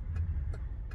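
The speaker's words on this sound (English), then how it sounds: "Let's let these cars go by." Cars pass near a parking lot, a steady low traffic rumble with a few brief higher swishes as vehicles go by at moderate distance.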